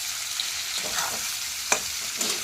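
Thinly sliced pumpkin frying in a pan gives a steady close sizzle, with a few soft scrapes and stirring strokes of a utensil against the pan.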